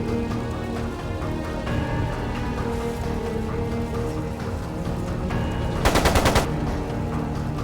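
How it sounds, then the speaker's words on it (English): Rapid machine gun fire bursts out in the Trails of Cold Steel 2 video game, a loud crackling volley near the end amid dense game music and battle noise. "It sounded like a machine gun."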